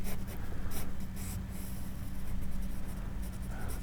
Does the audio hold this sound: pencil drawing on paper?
yes